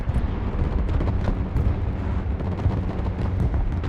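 MLRS rocket artillery fires in a real-time strategy game battle, a loud, dense barrage of rumbling launches and blasts that rolls on without a break.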